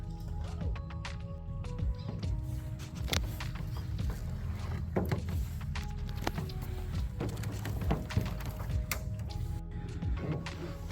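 A kayak is hauled by hand through mangrove roots instead of paddled, making irregular knocks, scrapes and hollow bumps against the hull over soft water and background ambience.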